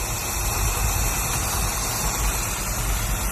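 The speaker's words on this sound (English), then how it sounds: "It's running idle." A 1957 Ford Ranchero engine idling, a steady low rumbling drone with even vibration throughout, no voices present.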